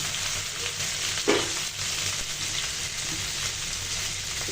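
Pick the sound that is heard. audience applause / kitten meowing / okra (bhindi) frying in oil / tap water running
okra (bhindi) frying in oil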